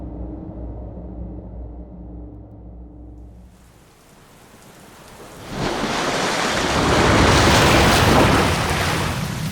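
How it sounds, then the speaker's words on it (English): In an audio drama, the sea boils as the spaceship Scorpio surfaces: a low droning hum fades away, then a heavy rushing, hissing surge of water builds and holds loud, like pounding surf or a downpour. "The sea boiled as Scorpio broke through the surface and rose into the grey, overcast sky."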